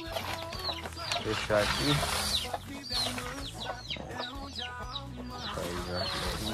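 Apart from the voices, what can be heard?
chick clucking while being caught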